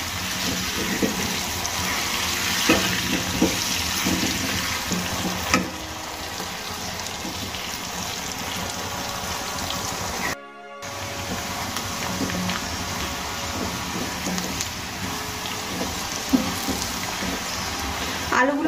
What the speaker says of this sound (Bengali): এবার আমি আলুগুলোকে লাল লাল করে ভেজে নেব।